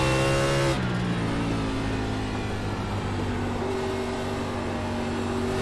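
NASCAR stock car engine at Nashville Fairgrounds Speedway in the iRacing simulator, a loud steady roar that drops at a lift off the throttle, then climbs back through gear changes.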